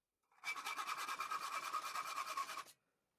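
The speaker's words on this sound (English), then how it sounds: "and filed off the sharp edges" A file rasping off the sharp cut edges of a stainless steel threaded rod, a rapid even run of scraping strokes lasting about two seconds, close and clear, then silence.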